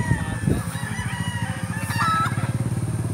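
A rooster crows loudly nearby while other chickens cluck, over a rhythmic low engine putter in the background.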